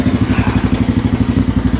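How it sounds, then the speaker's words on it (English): A three-wheeler engine fitted with a full Temu exhaust runs close and loud, a deep, rapidly pulsing throb with a steady mechanical rhythm throughout. "Let's see what she sounds like now with this full Temu exhaust on her."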